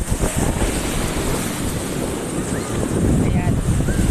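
Waves wash and surge against the shore as the sea water rises, with steady broadband surf and gusts of wind buffeting the microphone throughout, the wash swelling louder toward the end.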